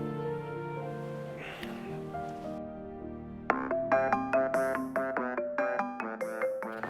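A phone rings on an outgoing call to a mother, first a sustained melodic tone, then a run of bright repeating beeps in a steady pattern, clear and close with no talking.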